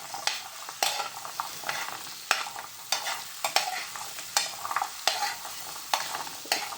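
Grated green coconut roasting in a pan over a medium flame, a soft steady sizzle broken by regular scraping strokes of a spoon, roughly one every half second, close and fairly quiet.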